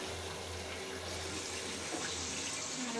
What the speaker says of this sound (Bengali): চিকেনগুলোকে ভেজে নিচ্ছি এখানে।